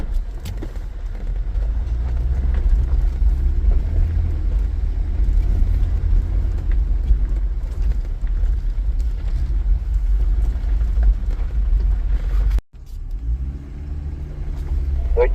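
Off-road vehicle crawling through tight turns on a Death Valley track, its engine a steady low rumble close by with rough-terrain knocks, briefly cutting out near the end before resuming.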